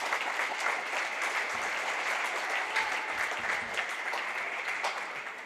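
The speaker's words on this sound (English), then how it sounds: "Please give them a round of applause." A crowd applauds during a homecoming coronation at a men's basketball game, sustained even clapping echoing through the gym for over five seconds with no voices over it.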